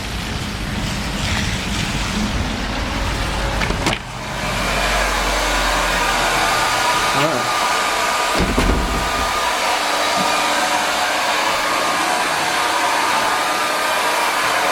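A handheld hair dryer blows steadily while drying long hair indoors, a loud continuous whooshing roar with a brief dip in airflow partway through before it resumes at full strength.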